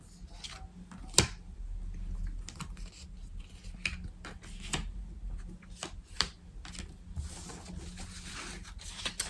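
Tarot cards are shuffled and laid out for a cross spread, giving soft, irregular flicks, snaps and slaps of card stock close by and quiet, with a few faint bits of speech.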